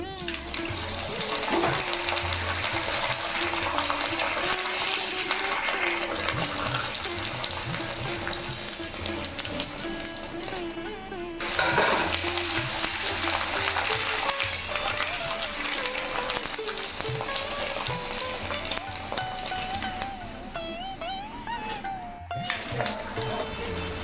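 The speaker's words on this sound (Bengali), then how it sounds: "তেলও গরম হয়ে গেছে এবার লুচিগুলো ভেজে নেবো" Semolina luchi frying in hot oil, a steady broadband sizzle and bubbling that runs continuously, close and moderately loud, with faint background voices and music-like tones underneath.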